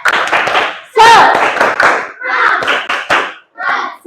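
A group claps in short rhythmic bursts, quick patterned patters separated by brief pauses, close and crisp, with voices chanting among the claps.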